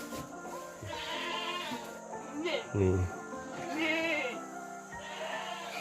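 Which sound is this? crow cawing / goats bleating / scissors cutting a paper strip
goats bleating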